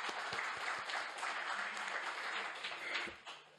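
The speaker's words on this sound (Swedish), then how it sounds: "Men jag tycker vi tackar Fredrik också med en applåd" An audience at a Swedish lecture claps in thanks for the speaker, a sustained, even burst of many hands that stays moderately quiet and eases off slightly at the end.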